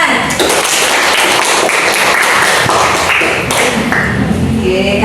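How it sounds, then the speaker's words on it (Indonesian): A classroom of students clapping, loud and close, a dense continuous rattle of taps and thumps that holds steady throughout. "Oke, tepuk tangan."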